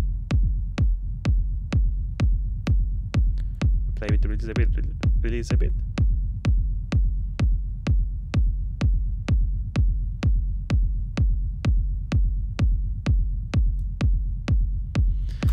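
Layered techno kick drum with a deep bass rumble, sidechain-compressed so the low end ducks on each hit; a steady four-on-the-floor pulse throughout, loud and continuous, with a brief voice speaking midway.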